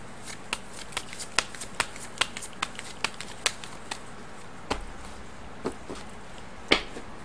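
Tarot cards shuffled close up: a steady run of crisp, evenly spaced card snaps, then a few scattered, heavier slaps, with no talking.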